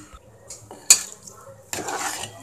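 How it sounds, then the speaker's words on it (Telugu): A metal utensil clanks sharply against a pot, then a hissing, rustling burst follows as a hot tempering is added and stirred into half-cooked dal with tender tamarind leaves. It is fairly close, with no talk. "పోపు ఇందులో మిక్స్ చేసుకొని మనం 1-5 నిమిషాల పాటు స్టవ్ మీద పెట్టుకుందాం"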